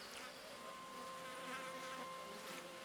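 Steady insect buzzing from a swarm of bees around a nest in a video game, a continuous droning hum with a faint high tone running through it, even in level and with no speech.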